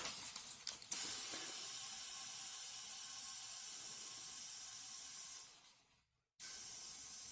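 A tubeless bicycle tire with a milKit valve is pumped up to pressure, giving a steady airy hiss close by that runs for several seconds, fades out, then briefly resumes after a short pause.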